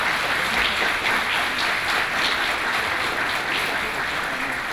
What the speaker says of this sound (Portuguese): pedindo também uma salva de palmas a eles.